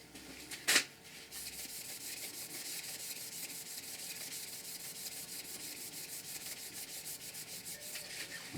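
A cloth rubbed against a wooden pen turning on a lathe as a finish is applied, giving a steady, close, continuous friction hiss that holds even for about eight seconds after a brief sharp knock near the start.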